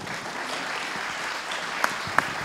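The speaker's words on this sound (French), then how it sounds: "Bravo, on peut les applaudir." Audience applause at an accessibility awards ceremony, a steady, moderately faint patter of many hands lasting a couple of seconds, with a few sharper claps standing out near the end.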